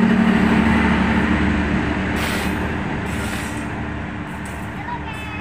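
A train rolls past at Gang Sentiong railway station in Jakarta with a loud, close, steady rumble of wheels and engine. The noise slowly eases as the train moves away, and a few faint squeaks follow near the end.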